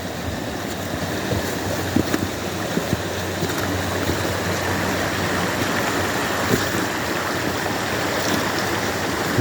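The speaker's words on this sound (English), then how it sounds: "We'll go up here and take a look at the waterfall." Creek waterfall pours in a steady, full rushing wash, constant and fairly close, with no voices over it.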